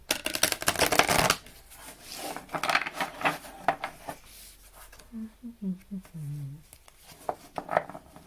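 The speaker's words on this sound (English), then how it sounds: "One more shuffle, please." Quick riffling shuffles of tarot cards, crisp and close, repeating in bursts with a soft voice murmuring briefly in the middle.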